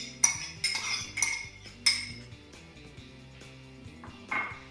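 A metal utensil scrapes softened peppers and shallots out of a pan into a bowl, producing a run of sharp clinks and knocks, with four louder taps early on and softer scrapes that trail off between them.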